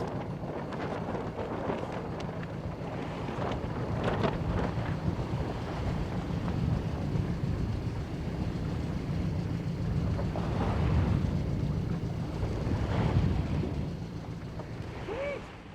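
Wind fills the sails of a sailboat under way with a steady, rushing, broadband roar and low gusting buffets throughout. Faint voices from the crew sit underneath.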